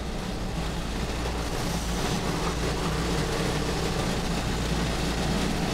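A UAZ 452 Bukhanka van ploughs through a muddy field rutted by a tractor, its engine giving a steady, loud low rumble and drone that holds throughout with no voices.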